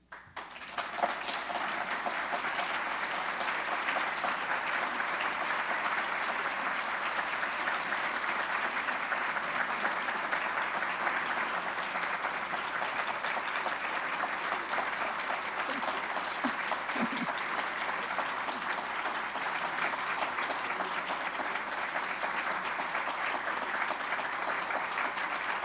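An audience at a restoration forum gives sustained applause after a speech, a dense, even wash of many hands clapping that rises quickly and holds steady for the whole stretch.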